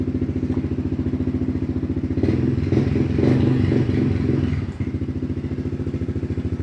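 A Honda CRF 110 dirt bike, a 2021 kids' 110cc model, idles with a steady rapid putter right after starting, then revs louder with rattly clatter for a couple of seconds before settling back to idle, close by.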